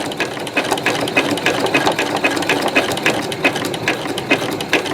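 A sewing machine runs steadily, stitching an oblong rope bowl made from cheap store rope, its needle chattering in a quick, even rhythm close by with no talk.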